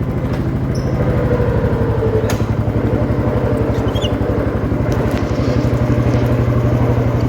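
A 1969 Gravely 432 walk-behind tractor runs at idle with its hood off, making a close, loud, rapid and even chugging clatter that holds steady throughout.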